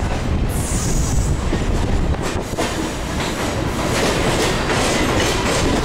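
A Mumbai suburban train running with its doors open, a loud steady rumble of wheels on rails with rhythmic clickety-clack and rushing air throughout, close and continuous, with no talk.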